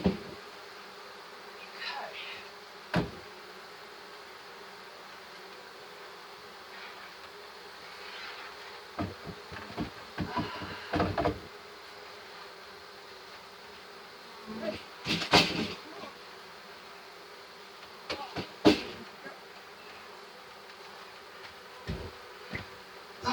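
Honey bees from a swarm colony buzz steadily throughout a hive inspection, a continuous hum close to the listener broken by scattered clicks and knocks of the hive equipment being handled.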